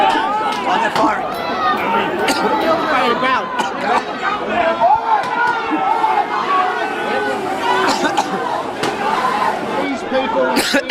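A protest crowd dispersing amid pepper spray and rubber bullets. Many voices chatter and shout, with hurried footsteps and scattered sharp knocks throughout.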